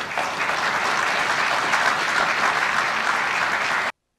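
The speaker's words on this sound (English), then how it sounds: "the muted applause doesn't make it sound too much better" Moderate applause follows a Mike Pence speech, a steady, even sheet of clapping from a crowd lasting nearly four seconds before cutting off abruptly.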